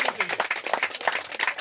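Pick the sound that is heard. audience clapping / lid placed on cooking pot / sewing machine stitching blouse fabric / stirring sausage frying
audience clapping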